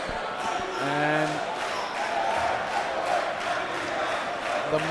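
Noisy crowd at a high school basketball game in the Max Stern Athletic Center, a steady roar of cheering and chanting with shouts rising over it, plus a commentator talking.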